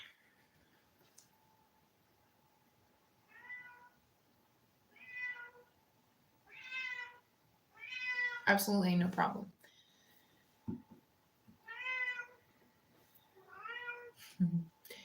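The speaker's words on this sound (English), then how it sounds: "You guys might hear Cat." A house cat meows repeatedly at night, a series of evenly spaced, moderately loud calls with brief pauses between them, alongside a person speaking at one point.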